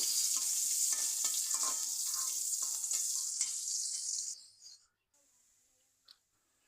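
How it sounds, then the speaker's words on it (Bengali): Sliced onions fry in hot oil in a kadai until light brown, giving a steady bright sizzle with faint stirring clicks; the sizzle stops abruptly after about four seconds, leaving near silence and one small click. "এবার আমি কিছু পেঁয়াজ ব্রেস্তা করে নেব, হালকা বাদামি কালার করে ভেজে নেব"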